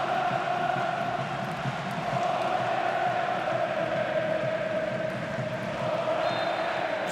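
A Dynamo Dresden stadium crowd at a DFB-Pokal match against Hamburger SV, a steady roar of fans with sustained chanting, continuous and fairly distant throughout.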